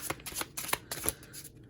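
A deck of tarot playing cards is shuffled close up, a quick series of crisp riffling bursts repeating in an uneven rhythm with no talking.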